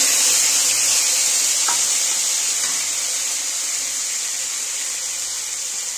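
Green chili and cumin paste frying in a pan with a little Kashmiri chili powder, giving a steady close sizzle and hiss throughout with faint stirring scrapes.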